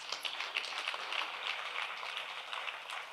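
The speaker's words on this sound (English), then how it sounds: "let's give him one more big round of applause" One more big round of applause from the audience at a debate event: fairly quiet, steady clapping from a crowd with a few sharper individual claps standing out, and no speech over it.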